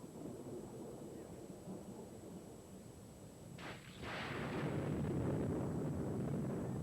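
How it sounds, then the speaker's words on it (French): Thunder from an approaching thunderstorm rolls in as a deep, distant rumble that swells and stays loud through the second half, with a brief crackle just before it builds and steady background hiss throughout. "Mais ce soir, regardez, un orage se prépare."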